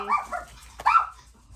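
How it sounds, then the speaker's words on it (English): A dog barks twice, close and fairly loud, two short sharp barks about a second apart. "That's my dog."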